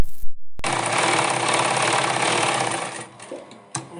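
A sewing machine stitches a pocket onto a pajama in a steady, loud, continuous whir after a brief pause, slowing and stopping near the end with a final clack.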